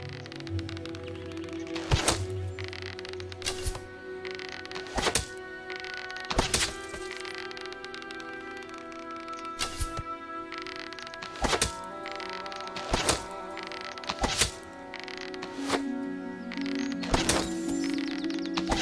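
Arrows striking a target in the Fable video game, a dozen or so sharp wooden thunks spaced a second or two apart over a steady game backdrop with faint birdsong.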